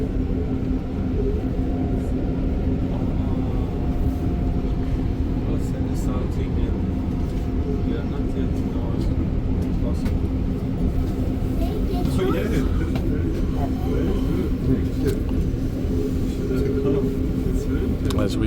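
Steady low rumble and rolling hum inside a REM light-rail train set of two coupled cars on the Deux-Montagnes Branch. Someone talks over the continuous ride noise throughout.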